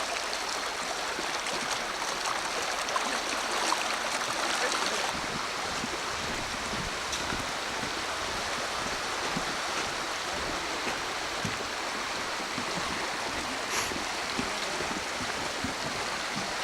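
The Russian River in Alaska rushes along where sockeye salmon are fished, a dense, steady hiss of flowing water that fills the whole span, close and unbroken, with no voices.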